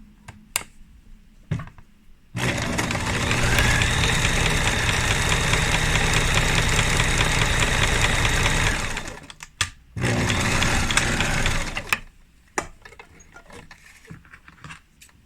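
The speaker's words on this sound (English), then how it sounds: "Oh, I should actually overlock this too though." An overlocker runs along a fabric edge during a dress alteration, first a long buzzing whir of about seven seconds, then a shorter second burst, with brief clicks before and after and no talking.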